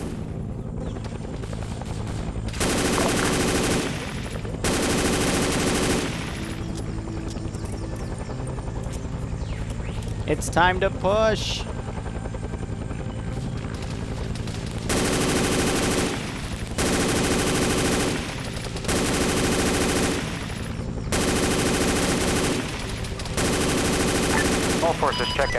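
Machine gun fire in a Vietnam war video game: several long, loud bursts repeat through the scene over a steady helicopter drone, with a voice calling out briefly in the middle.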